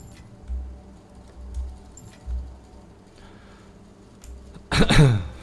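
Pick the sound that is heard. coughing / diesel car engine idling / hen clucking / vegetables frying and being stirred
coughing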